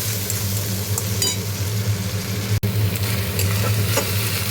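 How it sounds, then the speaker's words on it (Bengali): Onion paste being sautéed in a pan for fish curry, a steady loud sizzle with occasional stirring scrapes and a low background hum, with no talking. "পেঁয়াজের গন্ধটা যতক্ষণ না যাবে ততক্ষণ আমি কষবো।"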